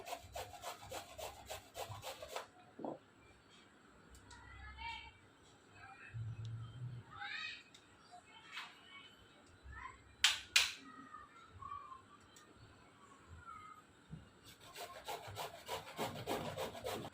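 An onion being grated by hand on a kitchen grater makes quick, rhythmic rasping strokes, close and crisp at the start and again at the end, with quieter scraping and handling sounds between.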